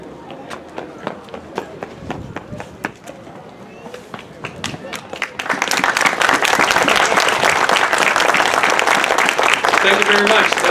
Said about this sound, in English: So once again, let's give a round of applause for Cynthia Tanabe-sensei.